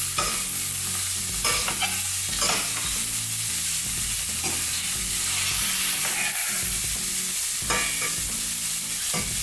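Onions sizzle on a griddle for Oklahoma cheeseburgers: steady frying hiss broken by repeated scraping and pressing strokes of a spatula, close and clear, with no talk.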